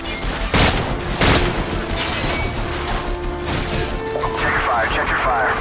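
Bursts of gunfire in the Modern Warfare campaign video game, several sharp loud volleys and cracks early on followed by scattered shots and impacts, with voices talking over the combat.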